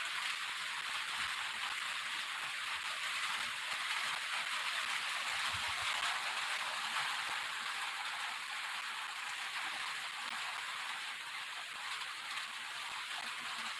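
Rain falling steadily, a faint even hiss of drops with an occasional low thump, continuous and distant.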